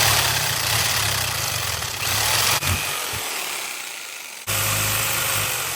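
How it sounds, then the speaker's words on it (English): Jigsaw fitted with a metal cutoff blade cutting through brake pad pins during a Tesla Model S brake job: loud, steady buzzing with two brief breaks, close by and without talk. "I'm going to use a jigsaw, the metal cutoff blade, to cut these pins right here, here, and here"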